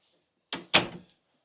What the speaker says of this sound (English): they could just shut this pocket door right here